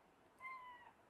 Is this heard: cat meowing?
yes